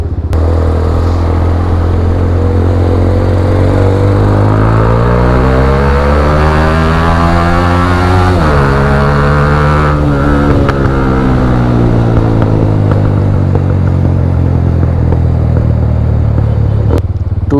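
TVS Apache RTR 200 motorcycles starting off on a Sunday group ride, engine rising and falling as it revs through gears, loud and close throughout.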